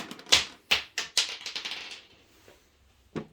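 Dice rattle and clatter onto a table during a Middle-earth tabletop battle game, several sharp clicking impacts in quick succession that settle into a few fading ticks, with one last knock at the end.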